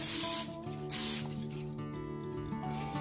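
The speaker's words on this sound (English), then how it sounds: "I'm just going to spray it with some nonstick spray" Nonstick cooking spray hisses into a crock pot lined with a liner, with a loud spray burst at the start, a second short burst around the one-second mark, then a quieter hissing tail.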